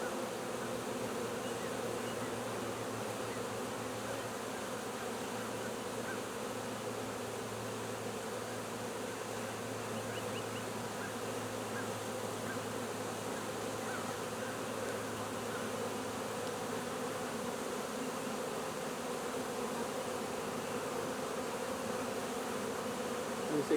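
A dense, steady buzzing hum of a swarm of honey bees fills the air continuously, loud and close, with no voices.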